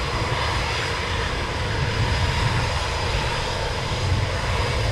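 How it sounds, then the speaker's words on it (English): An F-35B fighter jet inbound at RAF Coningsby during a NATO exercise: a steady, broadband engine roar that holds loud and even throughout, with no voices over it. "And Doomflight F35B inbound"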